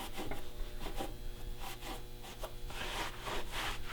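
Rubbing residue off a finished taxidermy deer head around the eyes and orbit area, a close, steady scratchy rubbing with rhythmic back-and-forth strokes, soft and continuous with no talking.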